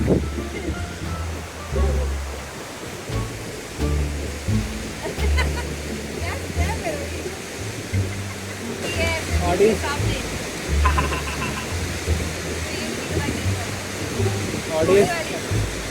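A mountain river rushes on the Har Ki Dun trek as a loud, continuous roar, with voices talking over it throughout.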